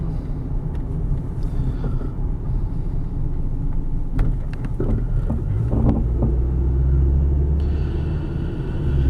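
A 1998 Toyota Camry LE sedan cruises over rolling hills and a speed bump, its steady low road rumble and engine drone continuous, with a few brief thumps and knocks from the suspension partway through.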